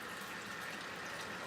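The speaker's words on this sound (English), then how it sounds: "I keep warming this water up in the faucet so y'all can see it" Warm water runs from a kitchen sink faucet in an even, soft rushing stream, faint and unbroken for a moment with no voices.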